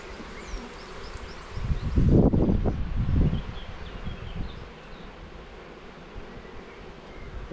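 Honey bees buzz softly around an open hive during an inspection, with a brief louder rustle of frames and handling in the middle.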